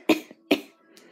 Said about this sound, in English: You're coughing, where's it coming from?